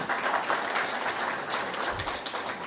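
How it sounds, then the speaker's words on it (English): Steady applause from the audience at a national road-safety conference, a dense wash of many hands clapping that continues evenly throughout at moderate volume, heard from a distance in a large hall. "A big round of applause, please."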